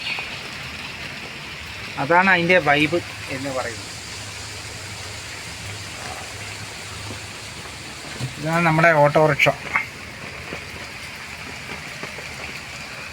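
A constant bed of heavy rainfall hisses underneath as someone speaks in two short bursts, with the rain carrying on by itself in the pauses.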